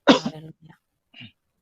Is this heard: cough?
yes